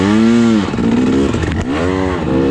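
A KTM 300 dirt bike engine revving hard on a hill climb during a hare scramble race, loud and close, rising and falling in repeated throttle bursts with the clutch slipping.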